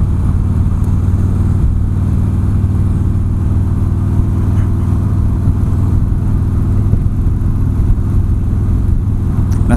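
A Harley motorcycle riding in traffic, its engine a loud, close, steady rumble with wind noise, holding a constant drone without clear revs or pauses.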